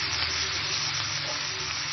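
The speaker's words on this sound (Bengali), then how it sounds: "এগুলো একটু ভেজে নিব" Onion, garlic and green chilies fry in a pan, producing an even, continuous sizzle with a soft low rumble beneath, steady and close throughout with no voices.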